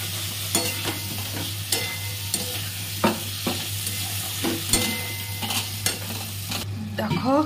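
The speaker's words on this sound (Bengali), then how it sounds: "এরপরে ইঁচড়টা দিয়ে দেবো, এবার ভালো করে কষিয়ে নিতে হবে।" Young jackfruit being stir-fried in a pan for curry, a continuous sizzle with a low steady hum and periodic scraping stirs of a spoon.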